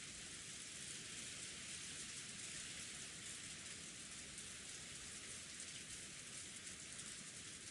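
Steady, even rain falls on a night-time rose garden in the visual novel Umineko, a soft, continuous hiss that stays faint and unbroken, with no voices.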